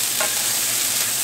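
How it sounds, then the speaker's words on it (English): Onions dropped into a hot frying pan for a beef chorizo breakfast burrito, giving a steady, loud, close sizzle and hiss that holds throughout. "Put our onions in there."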